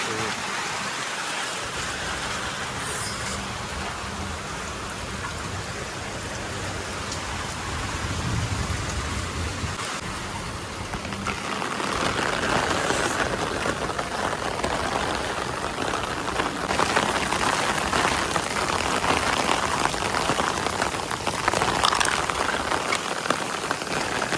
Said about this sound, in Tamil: நல்லா மழை பெய்யுது.